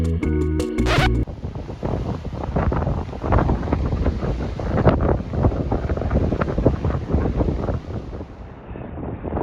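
Strong wind roars and buffets the microphone continuously on a Scottish clifftop, loud and gusty, after a brief burst of other noise at the start.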